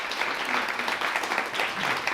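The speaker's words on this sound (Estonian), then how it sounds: "teeme suure aplausi meie esinejatele" Applause for the speakers at a green-municipality seminar on circular economy and waste reduction, a steady wash of many hands clapping at moderate volume throughout, with no talk over it.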